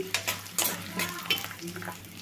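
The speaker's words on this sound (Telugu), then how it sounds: "తాలింపు అయితే మంచిగా వేగింది పచ్చిమిరపకాయ కూడా మంచిగా వేగిందండి" Oil sizzles and crackles in a pan as green and dried red chillies fry for tempering while a spoon scrapes and stirs, with short bursts of spitting close up.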